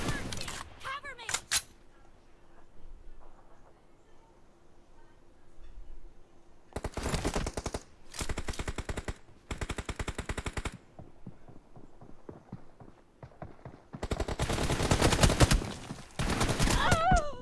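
Bursts of automatic gunfire from a shooter video game, several loud rapid volleys separated by quieter gaps, with brief in-game voice chatter early on.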